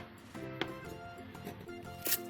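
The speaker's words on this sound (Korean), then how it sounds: "감자 2개도 큼직하게 썰어주세요." A kitchen knife slices potatoes into large chunks for a Korean seafood doenjang stew, with two sharp chops on the cutting board standing out over steady background music.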